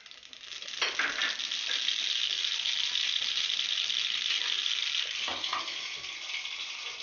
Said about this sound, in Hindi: इसमें हम राई डालेंगे।